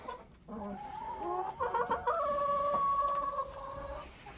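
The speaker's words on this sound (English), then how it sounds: "most of the chickens, I want to say out of 25, I think 18 of them go up on this roosting bar at night" Chickens clucking and calling inside a coop near a roosting bar, several birds overlapping in a steady, close chorus with one drawn-out crow-like call, no talking.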